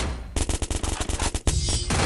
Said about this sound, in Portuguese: Por que eu dei uns 5 tiros nele e não morreu?